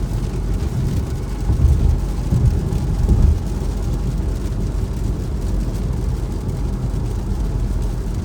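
Rain drumming on a Tesla driving at night, a steady close wash of noise blended with low road rumble, swelling slightly for a moment before settling, with no voices.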